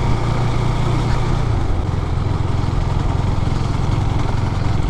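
A Husqvarna 401 Svartpilen motorcycle being ridden gives a steady, loud engine drone with a low throb and rushing wind noise. The pitch shifts slightly partway through, and no one speaks.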